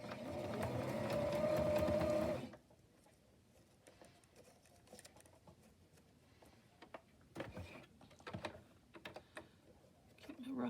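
A sewing machine running a straight stitch through fabric ruffles gives one loud steady whir for about two seconds, followed by quieter fabric handling and clicks.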